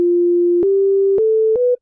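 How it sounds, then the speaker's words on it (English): A plain sine-wave synth tone from the FL Studio default preset plays as four clean, loud sustained notes, each stepping slightly higher in pitch with a tiny click at each change, then cutting off. "So it's just gonna sound like a basic sine wave."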